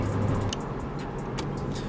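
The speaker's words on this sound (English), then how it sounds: "Alright, so we're gonna do the third pull." A Hyundai Veloster Turbo accelerates hard during a 0-60 run. Broad, steady engine and road roar is heard from inside the car, with a brief low rumble at the start and a few faint clicks.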